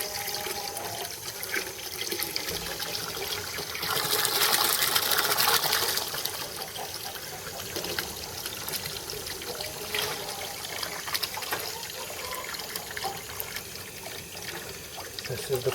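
Water runs steadily from a frost-proof hydrant on a farm, a constant hiss and trickle with a louder gushing stretch for a couple of seconds before settling back to a steady flow.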